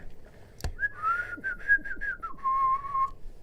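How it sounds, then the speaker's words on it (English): A person whistles a short, wavering series of notes up close, preceded by a sharp click. "That whistle."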